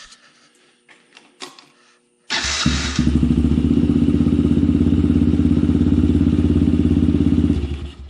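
A Can-Am DS90X quad engine starts abruptly after a few faint clicks and then runs steadily at a loud, close idle with a buzzing, rattling rhythm before cutting off at the end.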